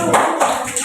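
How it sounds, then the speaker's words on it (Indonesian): A classroom of pupils claps their hands together in a short burst of several quick, close claps that swell and fade slightly. "Iya, tepuk tangan."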